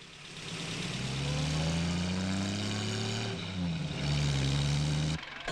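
A vehicle engine starts and revs up, a steady droning hum with rising and falling pitch as it pulls away, fairly close and without talk.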